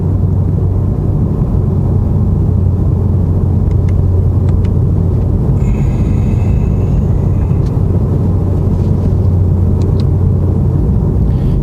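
Deep, steady engine rumble from a BMW M5 Competition cruising a slow country road, heard from inside the cabin as a loud continuous drone with a few faint clicks and no talk.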